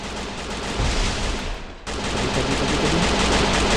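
Suppressed gunfire in the mobile shooter Free Fire, a steady rattling stream of shots over a hissing background that drops out briefly midway and then resumes just as loud, with no voices.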